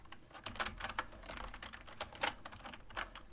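Steady typing on a computer keyboard as a school note is written, a quick irregular run of clicking keystrokes, close and fairly quiet, with no talking.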